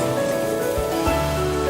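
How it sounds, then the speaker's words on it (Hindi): Water poured into a pan of fried jowar (sorghum), rice and vegetables for pulao, giving a steady splashing, sizzling rush that stays even and close for the whole short moment, with no talking. "अब हम इसमें पानी डालेंगे।"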